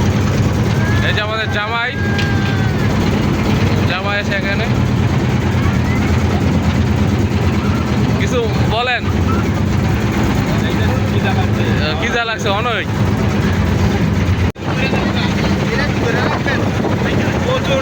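Motorboat engine drones steadily and loudly through a river trip to a rural char wedding near Munshiganj, with wind buffeting the microphone and choppy water around it, while several people talk over it.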